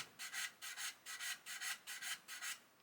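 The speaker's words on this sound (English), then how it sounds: "What I'm doing is just sanding away" Sandpaper rubs back and forth along a panel line on the wing of a 1/35 scale Ju 87 Stuka plastic model, making quiet, rhythmic raspy strokes, about a dozen in quick even succession, close and soft.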